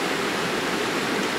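Waterfall at Nile Creek in the woods, a steady, dense rushing roar of falling water, close and continuous with no other sounds.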